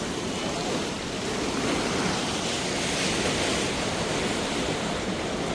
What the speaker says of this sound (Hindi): अब पुल से ऊपर आते हुए पानी देख सकते हैं